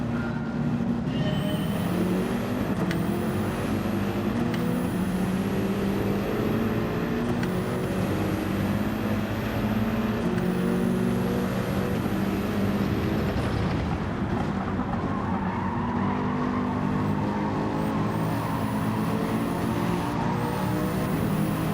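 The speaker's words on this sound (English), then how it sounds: "Crumbs, that AMG is so noisy." A loud AMG race car engine roars continuously in Gran Turismo 7, with a strained, buzzing note and repeated rising whines as it pulls through the gears.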